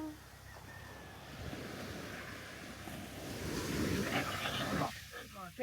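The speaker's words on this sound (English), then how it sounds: "Yeah, the waves are up." Ocean waves breaking on a beach in Aruba, a continuous rushing surf that swells louder toward the end, mixed with wind buffeting the microphone and no clear talk.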